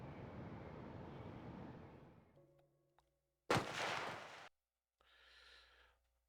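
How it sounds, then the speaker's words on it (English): Gunfire in the Juggernaut video game: after a fading rumble, a sharp loud crack bursts with a short burst of noise, followed by a quieter breathy sound, with silent gaps between. "Was it a gunshot that I heard in the distance?"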